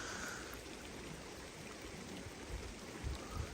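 A creek flows in a soft, steady rush, faint and continuous, with a few low thumps near the end.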